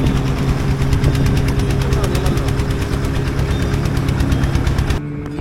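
A motorboat engine chugs steadily and loudly throughout a ride through mangrove backwaters at Honnavar, a rapid regular throb that cuts off near the end, with someone talking over it.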